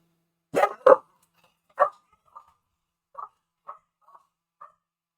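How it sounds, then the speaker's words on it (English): Dogs bark indoors, two sharp close barks followed by a louder one, then a string of quieter, scattered woofs and yips spaced out with silence between them. "My dogs are going crazy."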